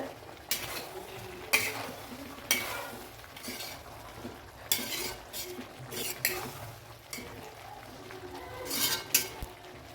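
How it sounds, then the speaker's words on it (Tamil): Drumsticks and brinjal frying in a pan with ongoing stirring, sizzling under frequent scrapes and clinks of a spatula against the pan, fairly close and steady with louder bursts. "முருங்கைக்காய் நல்லா டீப்பாக ஃப்ரை ஆகிடுச்சுங்க"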